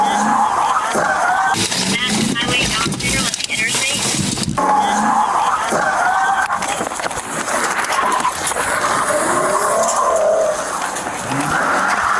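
A suspect's car speeds away from police, its engine and tires roaring and squealing loudly and unevenly, with people shouting over the commotion throughout.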